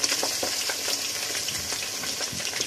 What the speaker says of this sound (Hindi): अब हम इसके अंदर अपना मीट शामिल करेंगे, बीफ का।